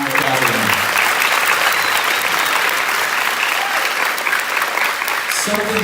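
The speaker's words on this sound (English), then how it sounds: "Give them a nice round of applause." Loud, full audience applause after a middle school summer band camp jazz concert, continuous crowd clapping close by, with a brief voice near the end.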